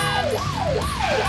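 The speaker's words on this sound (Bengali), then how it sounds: "এমন সাইরেন বাজিয়ে যাচ্ছ কেন ভাইয়া?" An ambulance siren wails steadily and loudly, its pitch sweeping up and down in repeated smooth cycles with no voices over it.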